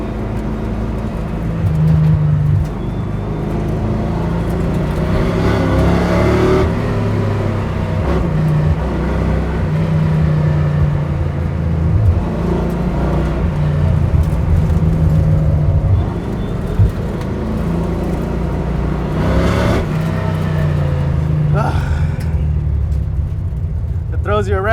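A 1966 Ford Mustang runs laps on a race track, its engine a loud continuous in-cabin drone that rises and falls through corners and straights while occupants talk over it.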